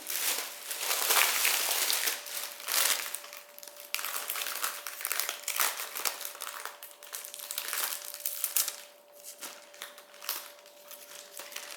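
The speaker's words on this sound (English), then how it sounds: "I did appreciate, though, this cellophane packaging because they did transport better with that little bit of protection on them." Cellophane packaging wrapped around orchids crinkles and crackles close by, in irregular bursts of rustling that rise and fade over several seconds.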